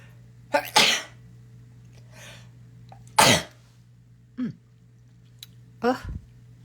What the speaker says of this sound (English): Oops, excuse me, I have to sneeze.